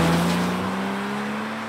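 Porsche Cayman 987 S with its 3.4-litre flat six and a loud aftermarket exhaust, a steady droning engine tone with a rising pitch, close and continuous, no talking.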